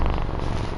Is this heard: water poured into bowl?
no